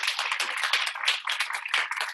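An audience claps steadily, many hands together in a fairly quiet, even patter that holds its pace throughout without cheering.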